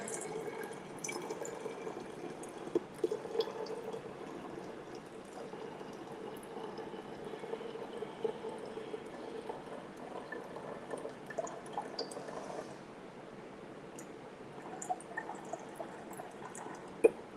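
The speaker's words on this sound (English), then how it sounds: "And then we're just gonna pour in our vinegar." Red wine vinegar pouring steadily into a bottle, a soft continuous liquid trickle with small drips and splashes, close and fairly quiet, no talking.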